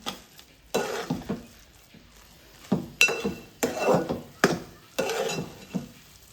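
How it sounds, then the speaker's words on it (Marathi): Thick chana dal and jaggery puran is stirred in a pan in a series of distinct scraping strokes, with a spoon clinking against the metal and quiet pauses between strokes. There is no talk. "जोपर्यंत असं घट्ट येत नाही हाताला तोपर्यंत ढवळत राहायचं आहे"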